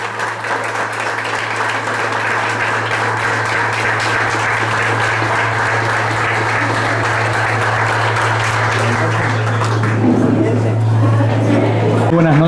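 A crowd at a campaign presentation for a mayoral candidate in Capilla del Monte breaks into sustained applause, a dense, loud wash of clapping over a low steady hum, with some crowd noise shifting near the end.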